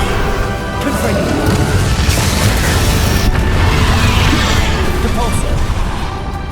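A Confringo fire spell explodes in Hogwarts Legacy amid a dense, loud wash of combat noise, with crashing impacts and booming bursts layered over continuous battle sounds.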